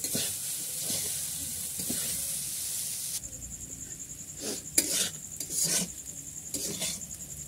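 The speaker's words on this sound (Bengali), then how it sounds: "তারপরে করে চাউমিন আমি ভেজে নিচ্ছি।" Veg chowmein is stir-fried in a pan, beginning with a loud, steady hiss that gives way to a quieter sizzle broken by several sharp scraping and tossing sounds close by.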